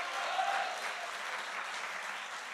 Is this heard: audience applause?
yes